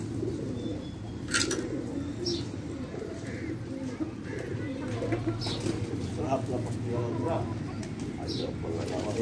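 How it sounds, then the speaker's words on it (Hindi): A flock of domestic pigeons coos continuously in a dense, low rolling murmur, with faint scattered chirps above it and no voices. "इस कबूतर का ज़रा सीन देखो।"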